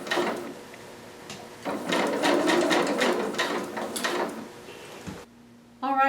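A home sewing machine stitches a seam on a Vogue 2530 garment, running in a loud whirring burst with brief pauses, then stopping before a short clatter at the end.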